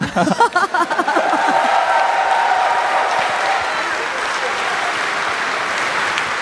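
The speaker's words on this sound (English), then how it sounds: "please give another round of applause" A crowd at a StarCraft II esports final breaks into sustained applause, steady and full after a brief moment of talk at the start, filling a large room.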